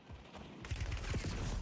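Rapid SMG bursts in Call of Duty Warzone, a string of sharp close shots starting partway through and continuing in quick succession over low rumble.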